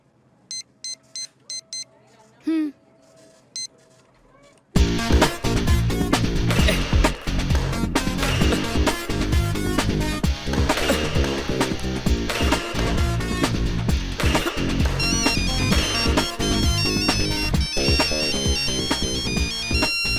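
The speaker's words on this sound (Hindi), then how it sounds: "ला नंबर लगा और फोन मुझे दे" A phone number is dialled in a few short separate tones, then a loud looping musical ringtone plays continuously as the call rings through.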